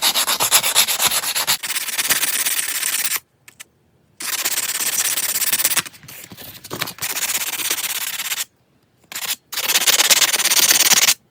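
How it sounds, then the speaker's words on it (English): Hand sanding of a homemade Whopper Plopper fishing lure, loud close scratchy rubbing in sustained strokes of a few seconds each, broken by short silent pauses. "Sanding."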